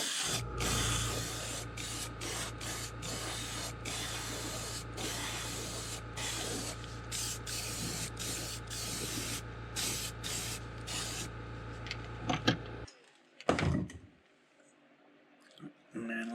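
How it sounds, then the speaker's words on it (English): An airbrush sprays watermelon shad paint with silver flake onto a crankbait lure, a steady loud hiss running continuously for most of the stretch before cutting off, followed by a few faint clicks and rubbing sounds. "you do need a 5mm brush to get this stuff to spray very good"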